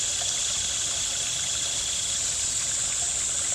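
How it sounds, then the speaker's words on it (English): A polluted urban stream, Chinquapin Run in Baltimore, flows with a steady close rushing and trickling wash that fills the short stretch evenly, with no voices. "Here's the river."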